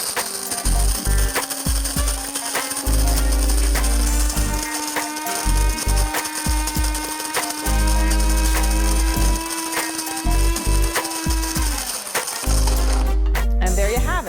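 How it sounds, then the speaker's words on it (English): A burr coffee grinder set to medium grinds beans in a steady, loud mechanical whir with rattling crunch that runs for about twelve seconds before cutting off, with a few clicks at the end. "by using the burr grinder"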